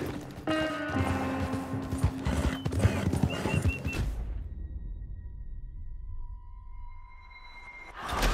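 Rhythmic hoof clip-clops from a galloping horse in Red Dead Redemption 2 on PS5, loud and close, over a busy game soundscape, then fading to a quiet hum with faint tones.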